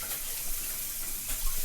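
Hot tap water runs steadily into a kitchen sink before dishwashing, a soft, even hiss of flowing water heard faintly and continuously.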